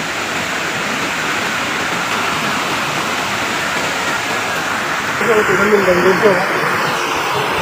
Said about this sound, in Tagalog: ng ilog, oh.